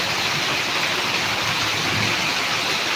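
Heavy monsoon rain in Karnataka pours down as a dense, steady, loud hiss, unbroken throughout with no voices.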